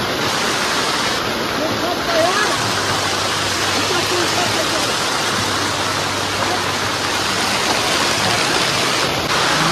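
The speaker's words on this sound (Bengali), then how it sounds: "মারাত্মক বৃষ্টি পড়ছে" Heavy rain pours steadily on the Kedarnath mountain trail, a dense, even hiss that never lets up for the whole stretch, with a faint voice now and then beneath the downpour.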